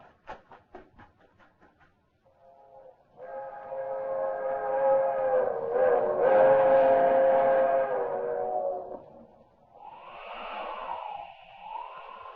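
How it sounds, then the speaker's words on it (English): A 1940s radio drama sound effect: a few rapid clicks of wheels, then a long, loud train whistle sounds for several seconds, followed by a shorter wavering whistle as the fast train passes. "There's the train. Traveling fast, all right."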